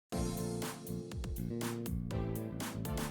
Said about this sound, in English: Throw in some drums and bass, and we got it sounding kind of like this.